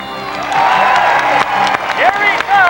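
A Sea World audience in San Diego in 1989 cheers and claps during a show, with an announcer's voice running over the crowd noise in short bursts.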